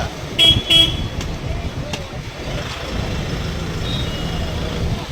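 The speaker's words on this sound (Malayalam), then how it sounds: "നമ്മളിപ്പോ വണ്ടി കടന്നിറങ്ങുന്ന ഒരു ചന്തയാണത്." Busy roadside market in Kishanganj, West Bengal, with vehicles driving through: steady traffic rumble, a couple of short horn toots early on, and voices talking in the crowd, heard from inside a passing truck.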